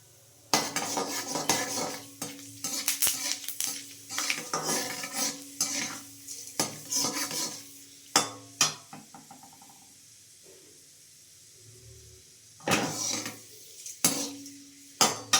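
Urad dal and mustard seeds frying in oil in a pan, stirred with a metal spoon: dense, close scraping and clinking over a light sizzle, a quieter stretch of a few seconds, then more sharp stirring knocks.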